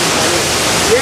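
A river waterfall, the Nevsa falls, gives a loud, steady broadband rush of falling water that fills the whole moment. A brief voice shows faintly at the end.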